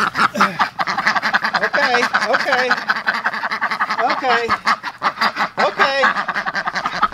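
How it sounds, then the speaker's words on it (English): Ducks walking around a garden and quacking, a busy chorus of close, raspy quacks that repeats throughout, with a person speaking briefly among them. "Now they're over here walking around, quacking, waiting on me to give them a watermelon."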